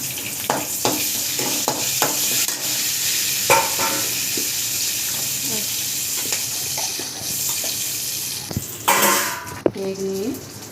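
Curry leaves crackle and sizzle in hot oil as the tempering for okra chutney is made, a steady frying hiss with a stirring spoon tapping the pan, and a voice talking over it.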